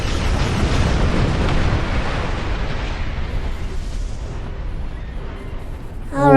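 Weapons fire and explosions in a space battle in Star Trek Online, a dense rumbling barrage of booms that slowly thins out, with a sharper burst at the very end.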